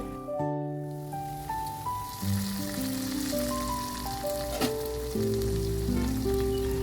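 Coriander bhorta sizzles steadily in a covered pan over medium heat, a constant close frying hiss with soft background music beneath it.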